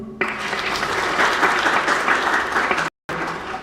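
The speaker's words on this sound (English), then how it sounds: "Could we give a better clap?" Conference audience applauding a presenter at an African curriculum association meeting, steady moderate clapping that runs throughout, broken only by a brief cut near the end.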